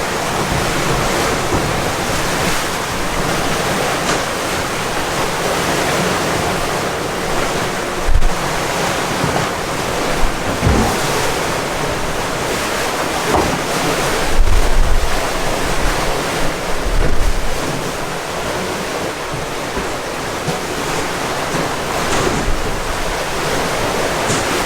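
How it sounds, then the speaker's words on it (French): Ocean waves and strong wind at sea surround a boat on a long passage, a loud continuous roar of surf with buffeting wind noise on the microphone and occasional heavier thumps. "je vous fais un petit tour d'horizon de l'état de la mer quand même"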